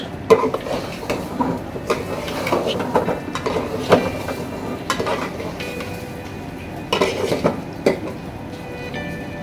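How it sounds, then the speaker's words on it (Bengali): Polao rice is being stirred and fried in a pot, with scraping of a spoon against metal, gentle sizzling and irregular clinks repeating up close. "পোলাওয়ের চালটা ভালো করে ভাজা হয়ে গেলে এটা কিন্তু একটা গন্ধ বের হয় পোলাওয়ের"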